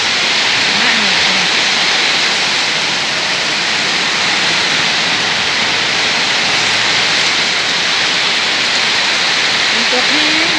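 Heavy, continuous rain falls all day, a loud, even wash of hiss with no gaps, with a few faint voice fragments just under it.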